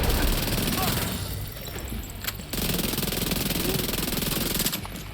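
Rapid SMG gunfire in The Division 2 rattles in dense, sustained bursts with a brief break midway, loud and continuous over game background noise, while a player talks over it.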